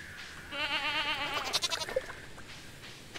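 A farm goat bleating in the video game Stardew Valley, one wavering, nasal bleat breaking into quick stutters, clear and close with nothing else around it.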